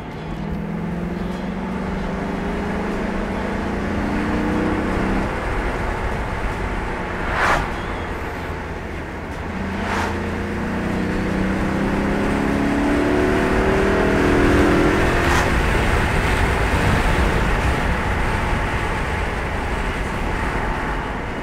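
A 2005 Maserati Quattroporte Sport GT accelerating, its engine droning and rising in pitch through gear changes with road and wind noise, heard from inside the car, steady and fairly loud throughout.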